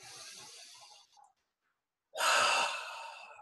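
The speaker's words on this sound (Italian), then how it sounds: "Inspiro, espiro." Slow, deep breaths drawn in and let out during a guided meditation, a full breath followed by a pause of near silence and then a louder, close exhale alone.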